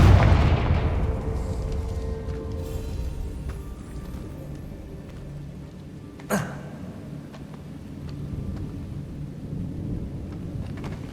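A Confringo fire spell detonates in Hogwarts Legacy, a single sharp blast around the middle of the clip rising out of a low, rumbling ambient bed, with a booming decay at the start.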